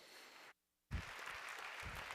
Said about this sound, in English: Give a round of applause for Oriol.